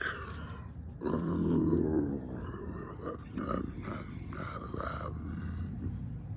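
Several children make low, growling snore-like noises together, rough and drawn out, imitating a snoring bear during a storytime reading, with some voices mixed in.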